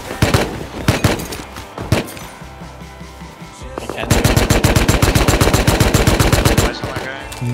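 Automatic gunfire rattles in the survival game Rust, starting with a few scattered shots and then a long, loud, rapid burst of evenly spaced rounds that keeps going for several seconds, close and dominant.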